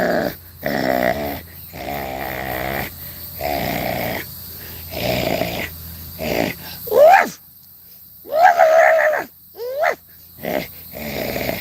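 A man imitates a dog with his voice, making a string of rough growling, snorting woofs and whining yelps in bursts with short pauses, close and loud.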